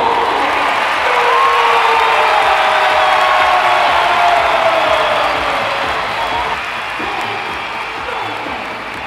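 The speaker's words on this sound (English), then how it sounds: "the crowd were just unbelievable. The noise they made, it was insane. Loud, loud, loud." A large crowd at the Royal Albert Hall for a World's Strongest Man strongman event roars with cheers, whoops and applause. The noise is loud and sustained and slowly fades toward the end.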